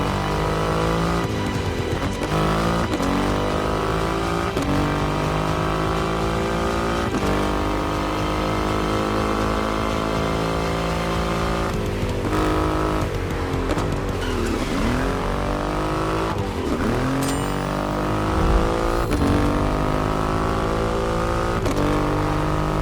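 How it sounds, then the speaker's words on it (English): A Triumph motorcycle with a 2.5-liter engine in The Crew Motorfest racing game, its engine revving hard and continuously with rising and falling pitch through repeated gear changes, loud and close throughout. "An extreme motorcycle with a huge presence. A Triumph bike through and through."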